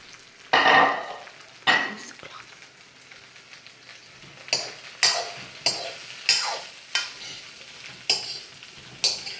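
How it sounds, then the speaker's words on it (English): Vegetables for an Asian eggplant stir fry tossed in hot oil: two loud bursts of sizzling, then a run of rhythmic stirring scrapes, each bringing a fresh hiss, close and unaccompanied by talk. "And then just stir them so that the oil manages to get on all of the vegetables"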